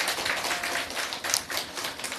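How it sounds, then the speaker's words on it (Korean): Applause at a church Christmas service: a group claps in quick, uneven bursts, soft and somewhat distant. "우리 사역을 축복하면서 다시 한번 우리 박수해 주시기 바랍니다"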